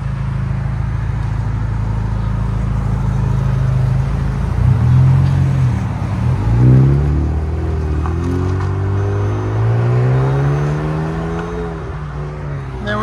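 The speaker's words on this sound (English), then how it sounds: "Hyundai Genesis coupe. I did a muffler delete." A Hyundai Genesis coupe with a muffler delete idles loudly and then revs several times, its deep exhaust rumble sweeping up and falling back in repeated swells, close and steady throughout.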